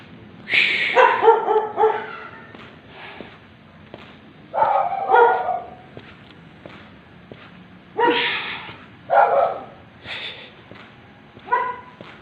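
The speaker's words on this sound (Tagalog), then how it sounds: "Daming aso." Dogs bark in short bursts of two or three yaps, repeated several times with pauses between, loud and close.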